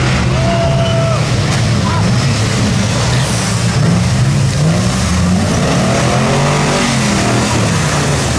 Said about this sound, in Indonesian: Di sini ada mobil off-road teman-teman.